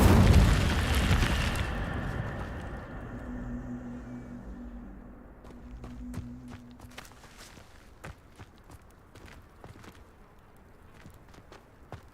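A fire spell cast in Hogwarts Legacy bursts with a loud whooshing blast, then dies down into a crackling burn with low rumbling tones and scattered small pops, fading to quiet.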